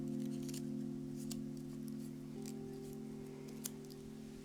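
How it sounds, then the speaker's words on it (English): Scissors snip floral wires for a cardstock lily of the valley craft, a few faint, sharp clicks over a steady background hum. "I'll go ahead and cut these wires so they're even."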